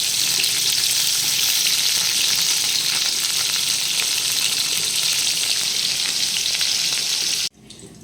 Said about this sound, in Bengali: ঝিঙেগুলো ভাজা হয়ে গেছে, এবার দিয়ে দেব আলু।